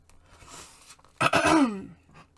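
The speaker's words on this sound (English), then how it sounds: "clear my throat from time to time" A single rough, scratchy throat clearing from a person with a sore throat, close and fairly loud, lasting about half a second, preceded and followed by quiet shuffling.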